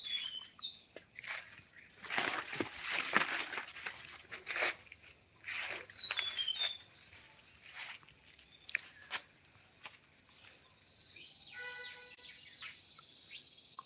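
Several birds chirp and tweet on and off in a quiet outdoor setting in the early morning, with faint rustling and a few brief flutters between the calls.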